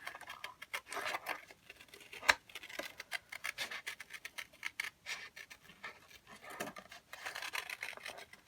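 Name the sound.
scissors cutting paper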